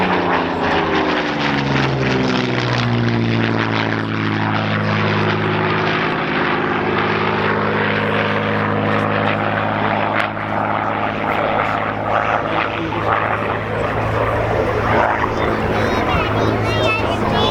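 A Spitfire flies past at the Dunsfold Wings & Wheels air show, its loud piston engine drone sweeping through a pronounced pitch-shifting doppler pass and holding steady, with a commentator speaking over the public address.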